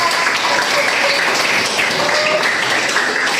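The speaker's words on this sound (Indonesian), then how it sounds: "Tepuk tangan dong kelompok 2" Group 2 in a classroom lesson gets steady applause from students, a continuous dense wash of clapping with no pauses.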